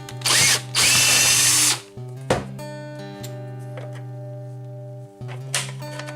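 An electric screwdriver whirs loudly in two short bursts while removing screws from a hedge trimmer, followed by a clicking rattle and a low steady motor hum that runs underneath, close up and without speech.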